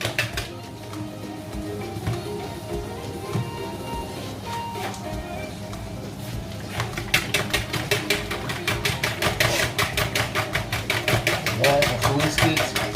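A salted cod (bacalhau) mixture is whisked in a bowl, heard as quick, regular clicking strokes that grow faster and louder in the second half, with a person talking over it.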